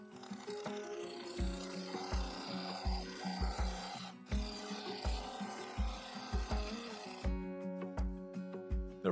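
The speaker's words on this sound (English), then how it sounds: "then I switched to the full-size carbide cutter." A full-size carbide cutter turns a purple epoxy resin dish with yew inserts on a lathe, scraping in repeated rhythmic strokes over a running motor hum, close and moderately loud.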